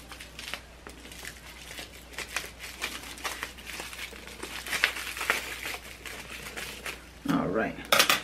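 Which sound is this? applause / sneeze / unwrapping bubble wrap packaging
unwrapping bubble wrap packaging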